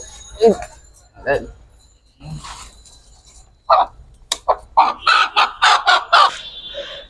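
Chickens cluck and squawk in a run of short, loud bursts toward the end, after a few quieter vocal sounds and brief talking near the start.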